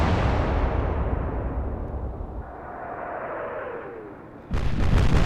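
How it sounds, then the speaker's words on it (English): Naval artillery fire and explosions during a Hood and Bismarck battle in the Atlantic Fleet video game: a loud, rumbling roar that slowly fades, then a sudden fresh blast near the end, with no voices. "Now we're getting some nice hits. Oh, beautiful. Secondary explosion."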